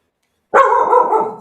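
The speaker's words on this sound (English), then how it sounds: "So just my dog." A pet dog, a female watchdog, lets out one sharp, close bark after a moment of silence, then the sound trails off.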